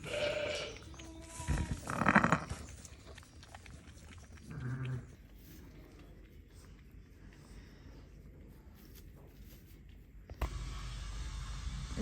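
Ewes with lambs at lambing time bleat outdoors in cold wind, a few short calls close by early on and another a little later, then quieter stretches with faint background noise.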